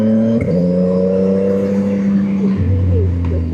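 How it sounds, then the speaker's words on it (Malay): Three-cylinder 675 NK motorcycle engine droning at steady revs while riding, with audible pitch shifts as gears change, loud and close with wind noise underneath. "Bunyi dia 3 silinder memang nice lah"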